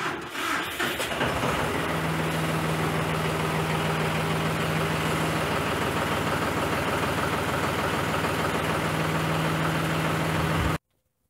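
A tractor engine idles steadily and fairly loud while its stabilizer arms are raised, a constant low drone with a sustained hum that cuts off abruptly at the end.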